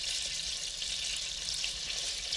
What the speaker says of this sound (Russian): Масло у нас растопилось.